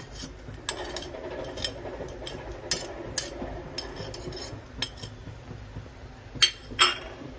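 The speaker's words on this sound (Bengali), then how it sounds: "এবার ভালো করে মিক্স করে আমি খুন্তিটা চেঞ্জ করে নিলাম" A metal spatula scrapes and rubs coriander, cumin and sugar in a cooking pan for a chana dal kochuri filling, giving a continuous gritty rasp with several sharper clinks and scrapes, loudest near the end.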